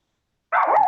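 A small dog barks in a single burst that starts halfway through and stays loud and close until the end, with no talk over it.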